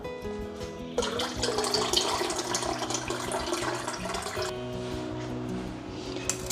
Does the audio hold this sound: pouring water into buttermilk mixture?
yes